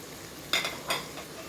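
Spices for a gobhi gosht cauliflower and meat curry frying in a pan, with two short bursts of sizzling and stirring scrapes over a quiet hiss.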